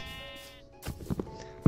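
In the Minecraft video game, a sheep gives a short bleat, a quavering nasal cry heard once near the middle, moderately close over quiet game background with a soft thump at the end.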